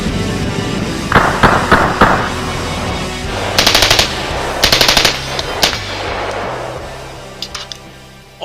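Bursts of automatic fire from a POF USA P416 rifle at a fairly slow cyclic rate, loud and sharp, with steel targets ringing between the strings of shots.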